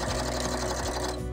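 A sewing machine runs steadily, stitching paper ephemera together with red thread; a close, loud, continuous mechanical whir with a fast even rhythm that eases off near the end, with no talking.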